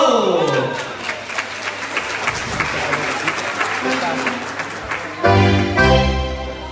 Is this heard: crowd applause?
yes